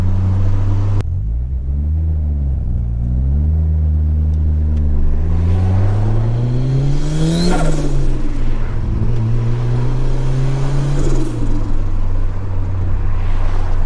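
A 1987 Ford Sierra Cosworth RS500 turbo engine revs up and down repeatedly with a loud, close, rising and falling drone and rumble. No one speaks.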